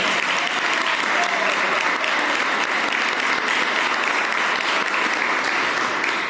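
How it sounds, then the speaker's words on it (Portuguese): A church congregation applauds at an evening worship service, a dense, steady wash of many hands clapping that stays loud and even from start to finish. "Sabe que você pode aplaudir o Senhor?"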